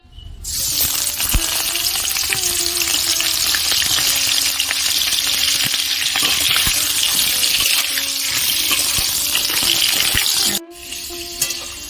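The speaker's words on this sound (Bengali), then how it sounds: "এবার কড়াইয়ের মধ্যে তেল দিয়ে আমি পটলগুলোকে ভেজে নেব।" Pointed gourd (potol) fries in hot oil in a wok, giving a strong steady sizzle with occasional sharp pops and scraping, then a brief break and quieter frying at the end.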